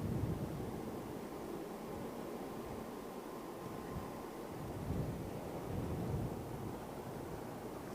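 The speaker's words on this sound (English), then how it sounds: "Quite a bit of wind." Strong side wind gusting across Heathrow Airport near runway 27R, a steady low roar and rumble of wind buffeting the microphone, swelling slightly in gusts with no voices.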